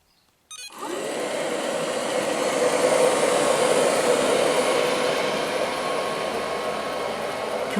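An Ilife V3s Pro robotic vacuum cleaner runs over carpet strewn with polystyrene beads, its motor starting abruptly after a moment of quiet and then whirring steadily and loudly, close by, with no talking.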